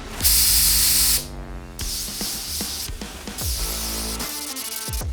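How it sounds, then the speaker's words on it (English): Paint spray gun at lowered pressure laying a drop coat on a BMW E92, a loud close hiss in bursts, with a sustained whining tone and tapping, clattering sounds running under and between the spray passes. "I'm gonna spray a drop coat onto it so all the metallics lay even."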